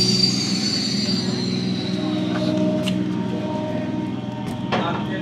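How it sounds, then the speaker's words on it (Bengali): The Santipur local, a suburban commuter train, draws into a quiet station on a winter night, its low steady rumble and rail hum continuous throughout, with a couple of faint brief squeals near the end. "এই এসে গেছে শান্তিপুর লোকাল।"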